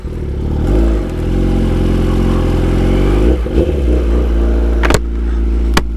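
A Kawasaki ZX10R sport motorcycle idles and rumbles loudly up close while filtering past stopped cars, with a few throttle blips and two sharp clicks or knocks near the end.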